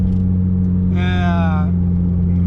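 A Peugeot 205 XSI on Speedline wheels and coilover suspension drives along with a steady, loud low engine drone and road rumble, briefly rising in a revving tone midway, with a voice talking over it.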